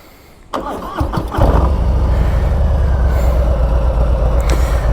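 A 2021 Harley-Davidson Softail Street Bob motorcycle engine cranks briefly and fires, settling into a loud, steady, close-up low rumbling idle with no one talking.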